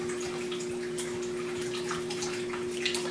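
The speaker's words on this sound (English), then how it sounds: "We would like to drain the noodles but reserve the liquid." Cooked rice noodles are drained for chicken sotanghon, and the cooking liquid is poured off and kept. Water splashes and trickles at a low, steady level against a constant hum.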